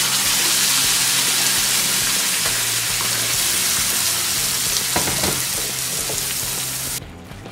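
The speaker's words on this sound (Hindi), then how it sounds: "ये हमने प्याज और बाकी की चीज़ों का जो पेस्ट बना के लिया था इसे 3-4 मिनट के लिए भून लिया है" Loud, steady sizzling of onion paste frying in a hot pan for Punjabi dum aloo, with occasional stirring scrapes, continuous and close.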